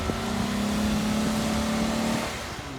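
A truck engine labours and revs steadily as it climbs a hill, a loud sustained drone for about two seconds before easing off.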